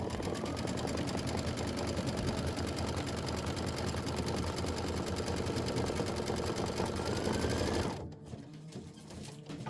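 An embroidery sewing machine stitches stems onto a quilt block, a fast, even mechanical chatter at close range that runs steadily and then stops abruptly near the end.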